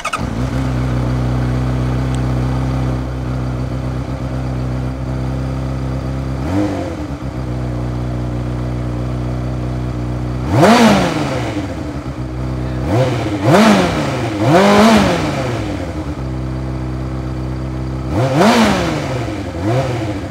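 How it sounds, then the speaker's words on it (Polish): A Honda CBR 600F motorcycle fitted with a Scorpion aftermarket exhaust and the original catalytic converter idles with a deep burble, then gets several sharp throttle blips that rise and fall quickly, loud and close. "Mamy wymieniony układ wydechowy na Skorpiona."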